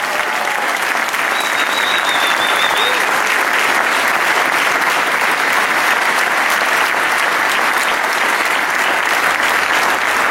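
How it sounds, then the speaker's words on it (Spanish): A church congregation claps loudly and steadily at a Sunday service, a dense unbroken wash of applause that carries on for several seconds. "Si puede, darle un aplauso fuerte al Señor."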